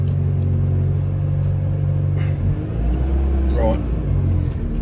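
Toyota AE86 engine idling low and steady, then revving up and settling as someone talks over it close by.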